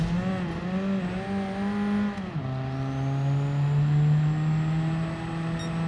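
Car racing over dirt in Gran Turismo 7, its engine holding high revs, then falling in pitch at a gear change before climbing steadily again, loud and up close with a faint gritty hiss.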